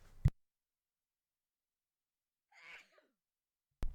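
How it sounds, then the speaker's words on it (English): A single sneeze-like burst near the middle, quiet and brief, with short sharp clicks at the start and end and silence in between. "Sorry, guys, I gotta sneeze."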